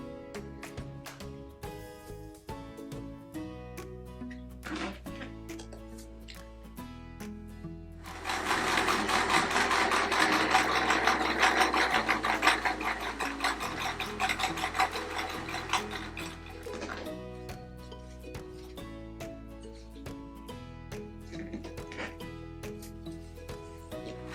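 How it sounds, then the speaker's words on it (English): A sewing machine stitches patchwork quilt pieces together, its steady mechanical whir and rhythmic clatter close by, swelling louder and faster in the middle stretch before settling back to a slower hum. "I'm going to be stitching the 2 quarters together to make a half, and then the 2 halves together to make the whole"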